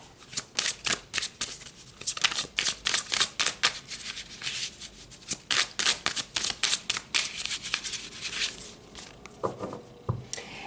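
Oracle cards being shuffled and pulled for a Capricorn reading, a fast run of crisp riffling snaps and slaps close to the microphone, pausing briefly near the end.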